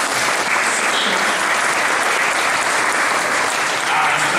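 A church audience at a barrel organ concert in Wittmund's St. Nicolai church breaks into loud, dense, steady applause that carries on without a break.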